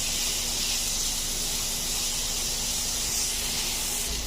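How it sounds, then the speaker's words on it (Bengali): Vegetables frying in a pan for a butter garlic fish fry, a steady loud sizzle and hiss held evenly throughout with a faint low hum beneath. "তো সবজিগুলো আমি অল্প সামান্য একটু ভেজে নেব, জাস্ট 1 মিনিট মতো আমি ভেজে নিচ্ছি।"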